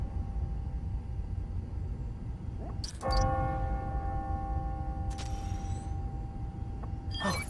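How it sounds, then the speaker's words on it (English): A struck church bell in the video game Spider-Man: Miles Morales rings the hour with a sustained, shimmering tone, then fades under a faint steady background hum, with a second bright strike near the end. "Ringing on the hour."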